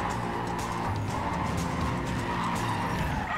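Sustained tire squeal and skidding from a car in the racing video game Need for Speed Carbon, a steady loud screech with engine rumble underneath and no talking.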